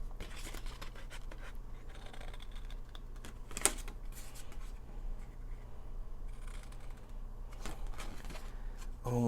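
Scissors snip along the dotted lines of a paper DIY storage template, giving soft, irregular cutting and paper rustles up close with no voice.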